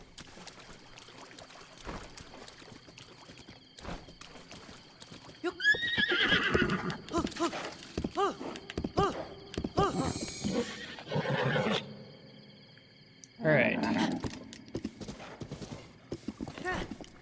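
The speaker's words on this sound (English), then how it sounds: "That one's a wild horse." Wild horse neighing and galloping hooves clip-clopping in the video game Breath of the Wild, with whinnies bursting out amid bouts of hoofbeats; someone talks briefly over the game sounds.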